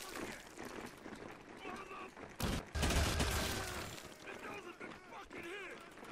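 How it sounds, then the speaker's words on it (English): Scattered video game gunfire pops and crackles among busy game sounds in a Stranger Things Hawkins Lab battle of Sentry marines versus Scorn creatures, with a voice talking over the action. "Am I hearing gunshots? I am."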